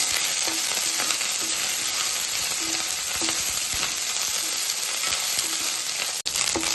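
Green chillies and curry leaves frying in hot oil for gobi 65, a loud constant sizzle with regular scraping strokes from stirring and a brief sharp drop near the end, no talking.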